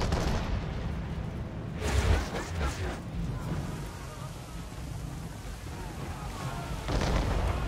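Ship cannons firing in the Assassin's Creed 3 video game during a naval battle, with booming blasts at intervals over a constant rush of wind and sea noise.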